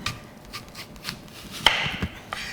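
Several sharp knife chops through onion on a cutting board, irregular and close, with a louder burst of cutting in the middle and quieter clicks around it.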